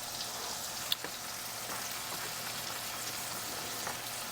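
Spiced flounder fillets frying in a pan give a steady, even sizzle with scattered soft pops and crackles, one sharper tick early on, and no talking.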